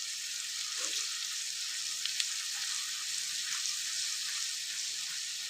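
Ginger and turmeric paste fry in hot oil for a chikkudukaya curry, giving a steady, close, even sizzle with faint stirring and no talking.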